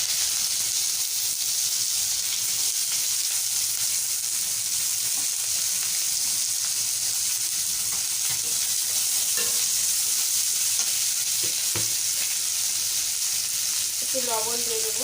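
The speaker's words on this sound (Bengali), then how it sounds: "তারপরে দেবো পেঁয়াজ," Onions fry with black cumin in a pan for a Bengali tangra fish curry, a continuous bright sizzle with occasional stirring scrapes throughout.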